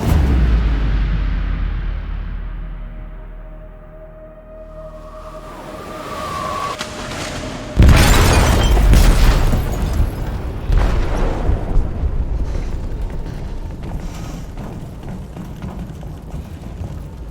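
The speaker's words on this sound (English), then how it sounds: "They detonated an explosive in the hold. The ship is sinking, sir." In Detroit: Become Human, an explosive detonates in a ship's hold, a sudden deep boom partway through after a low rumble, followed by a long rolling crash and roar that slowly fades.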